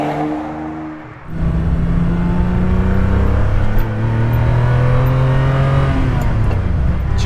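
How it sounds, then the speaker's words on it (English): A Ferrari 456 GT's engine revs while driving on a mountain road lined with Armco barriers, a loud, close, rising growl that dips briefly, then pulls strongly and steadily with shifting tone and no speech. "Just listen to that engine."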